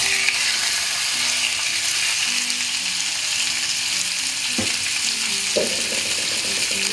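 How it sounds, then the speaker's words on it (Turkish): Pieces of meat frying in hot oil in a pan for çökertme kebab, giving a steady bright sizzle throughout with a few brief stirring knocks, no talk. "Tavamızın içindeki yağ ısındıktan sonra etlerimizi koyuyoruz kavurmaya."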